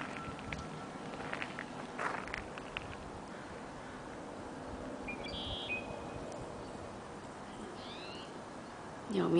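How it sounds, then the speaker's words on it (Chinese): Birds call around Beaver Lake, a marshy pond in Vancouver's Stanley Park where mandarin ducks gather, with a few short, bright chirps rising faintly over a steady outdoor background hiss. "鸟鸣很清脆"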